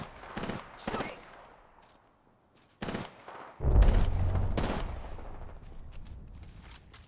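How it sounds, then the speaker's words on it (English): Enemy gunfire in Apex Legends cracks out in a few sharp separated shots, then a heavy booming burst trails off, with short stretches of near silence between. "The enemies are shooting at me."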